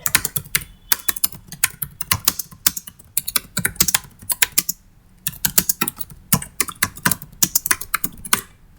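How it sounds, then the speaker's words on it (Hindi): Fast typing on a computer keyboard, a steady stream of crisp close key clicks in bursts with one brief pause midway, no voices. "अभी हम एक सैंपल टेक्स्ट यहां पर टाइप करते हैं।"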